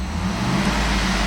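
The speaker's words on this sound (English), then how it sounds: "I'm going to rev the engine here" A 2010 Cadillac Escalade's 6.2-liter V8 runs steadily with a low, constant engine rumble, close by and fairly loud. The 1.4-second stretch holds no clear rise in revs.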